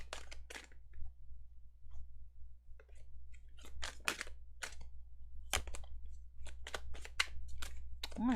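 Tarot cards being shuffled in quick bursts of crisp riffling and slapping, close and fairly loud, separated by brief quiet pauses over a low steady hum.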